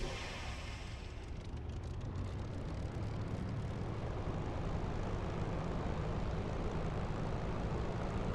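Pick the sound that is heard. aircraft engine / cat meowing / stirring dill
aircraft engine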